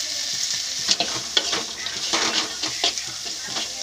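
Crab frying in a pan, a sizzle broken by scraping stirs with intermittent louder clatters. It is close and steady, with no one talking.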